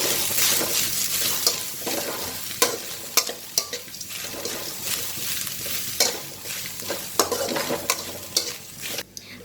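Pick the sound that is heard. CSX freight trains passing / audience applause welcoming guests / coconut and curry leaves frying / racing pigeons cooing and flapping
coconut and curry leaves frying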